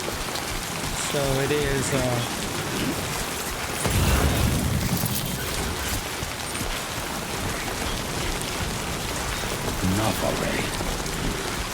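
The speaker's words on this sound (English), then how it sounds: "I can't do nothing about that rain, man." Rain falls steadily in a video game, a constant hissing downpour with heavier bursts, while a person talks over it and game sound effects come and go.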